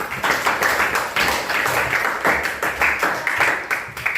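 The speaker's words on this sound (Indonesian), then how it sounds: "tepuk tangan dulu buat Amanda" A classroom group claps for a student, a few seconds of uneven hand clapping from a modest crowd that swells in waves, fairly close.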